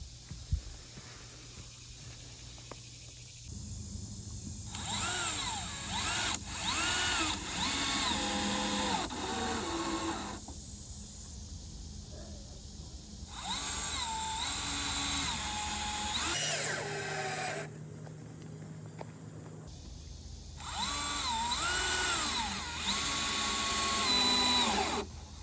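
A power drill whines in repeated bursts of several seconds each, driving screws into wooden studs while an outdoor shower is built, with quieter pauses between runs.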